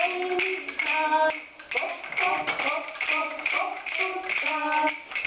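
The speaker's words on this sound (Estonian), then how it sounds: "Koputan." Rhythmic knocking taps keep time within a children's Christmas song, a group of young voices singing over the steady beat.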